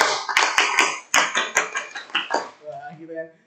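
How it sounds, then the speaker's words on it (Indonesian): A school class performs the rhythmic Pramuka scout clap: crisp, close hand claps in a patterned sequence of single and grouped beats. A voice follows once the clapping stops. "Biar semangat, tepuk pramuka dulu deh ya."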